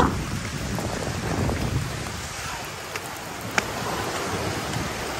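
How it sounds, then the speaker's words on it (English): Heavy rain pours down during an afternoon thunderstorm, a dense close hiss of drops striking surfaces, with a couple of faint sharp knocks near the end. "Come on! Rain is coming!"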